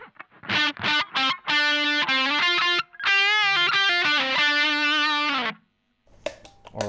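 Electric guitar with a distortion effect plays a run of picked notes and longer sustained bends, loud and upfront with gritty harmonics, then stops briefly before a few scratchy strums.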